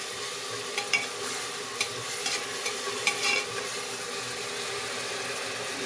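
Ginger-garlic paste fries in a pot as a mutton curry is started, stirred by a spoon. A steady close sizzle runs throughout, with a few sharper scrapes and clinks from the stirring and no voices.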